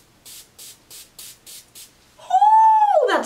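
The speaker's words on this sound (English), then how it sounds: "clean things up a little bit with my piercing aftercare spray" Six short spray bursts hiss in an even rhythm, then a voice makes a loud high-pitched exclamation.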